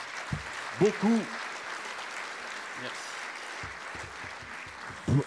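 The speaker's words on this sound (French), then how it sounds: "Vous pouvez l'applaudir pour l'encourager." Audience applause during an opening speech at a French national conference: a steady, moderate wash of clapping runs throughout, with a voice briefly heard over it near the start and again at the end.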